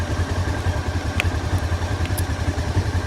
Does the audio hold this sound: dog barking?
no